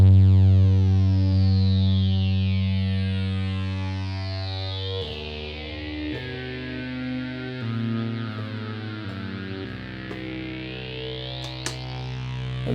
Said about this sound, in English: let's reintroduce our CV onto the phaser and we'll combine the two